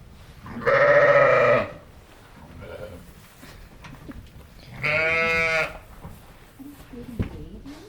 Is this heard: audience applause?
no